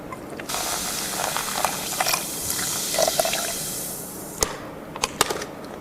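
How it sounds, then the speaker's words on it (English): Cola pours into a pot with a continuous fizzy, hissing splash that stops partway through. A few sharp clicks and clatters follow, close by, with no talking. "take your cola and you're going to want to empty the whole thing into here"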